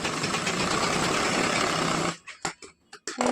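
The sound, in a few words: sewing machine stitching blouse tucks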